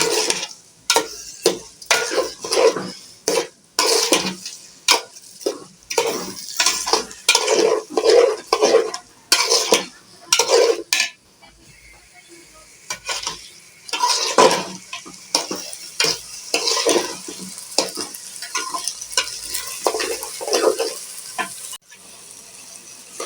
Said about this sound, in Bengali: এখন চালটাকে ভালো করে ভেজে নেব।